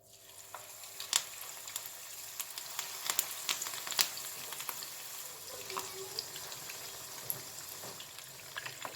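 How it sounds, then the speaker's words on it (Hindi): Peshawari chapli kebabs frying in hot oil: a steady, close crackling sizzle with scattered sharp pops and spatters running the whole time. "अब मैं इसमें कबाब फ्राई करूँगी।"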